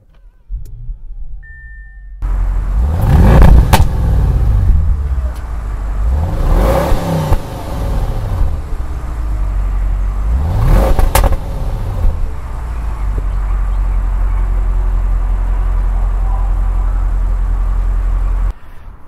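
A 2016 Audi RS7 engine starts, then settles into a steady idle between three strong revving bursts, loud and close with no voices.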